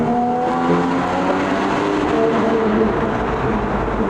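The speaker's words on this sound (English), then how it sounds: "I still don't know how Porsche made this sound like this from factory." Porsche Boxster GTS engine pulling after a downshift, a loud, steady mechanical drone that holds throughout with no voices.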